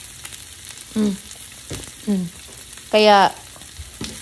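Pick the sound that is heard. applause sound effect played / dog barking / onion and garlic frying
onion and garlic frying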